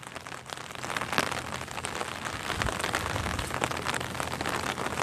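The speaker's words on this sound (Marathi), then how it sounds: "सध्या प्रचंड पाऊस आमच्या इकडे पडतो आहे।" Heavy rain falls steadily on a flooded farm field, a dense, even hiss of drops close by with no voices.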